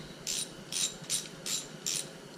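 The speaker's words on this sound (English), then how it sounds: "Now we'll torque them down, and they call for 19 foot-pounds" A torque wrench ratchets down rocker arm bolts on a Jeep 4.0 engine. Five short, evenly spaced clicking bursts sound quietly and close, with no voices.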